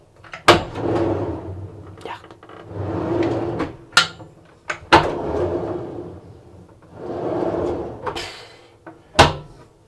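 Drawers in a luxury motorhome slide open and shut several times, with rolling runner noise between sharp knocks, close by and fairly loud.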